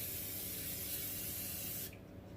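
Cooking spray greases a cake tin for a lemon cake in a kitchen, a continuous close hiss lasting nearly two seconds before cutting off into quiet.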